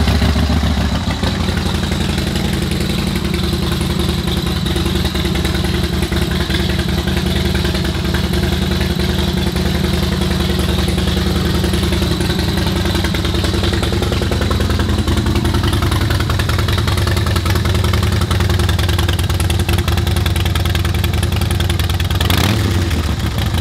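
A 2016 Harley-Davidson Dyna Wide Glide V-twin turns over and settles into a loud, steady, lumpy idle recorded close to the bike, continuing unbroken throughout.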